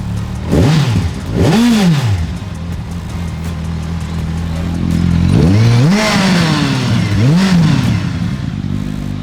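A used Kawasaki Ninja superbike engine is started and revved in several loud, close blips, each rising and falling sharply, with a steady idle rumbling between them and a pause before two more throttle bursts.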